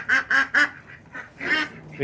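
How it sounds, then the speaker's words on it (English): Ducks quack in three loud, evenly spaced calls, then a softer pause and another burst of quacking, close by and outdoors where a concrete countertop is being built. "Yeah, sorry about the ducks."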